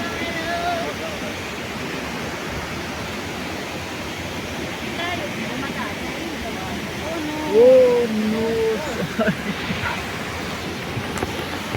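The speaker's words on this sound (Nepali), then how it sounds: "यो चाहिँ हो झरना जुन चाहिँ मैले अघिदेखि देखाउँदै थिएँ खोज्दै थिएँ" Steady broadband rush of the waterfall at Kulekhani fills the background throughout, with faint voices and a brief louder event near the middle.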